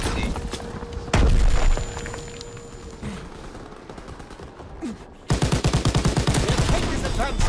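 Machine-gun fire in a WW2 video game tank battle: dense, rapid bursts, loud and close, with a heavy boom early and a sustained rattling volley near the end.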